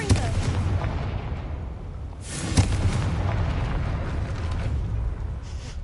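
A Confringo spell blast in the video game Hogwarts Legacy, aimed at a gate, lands as a sharp, loud boom partway through, over a steady low rumbling game ambience.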